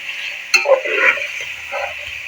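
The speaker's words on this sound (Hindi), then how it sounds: "और इनको फ्राई करेंगे, अच्छी तरह से मिक्स कर लेते हैं।" Mutton chops with green chilies frying in a pan, sizzling steadily as a spoon stirs them, with a sharp scrape and a few bursts of stirring noise up close.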